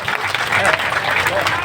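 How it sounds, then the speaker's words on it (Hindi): A crowd at a farmers' rally claps in sustained, dense applause, loud and continuous across the whole moment. "एक बार पुनः तालियां बजा करके एमपी साहब राहुल जी का स्वागत करेंगे"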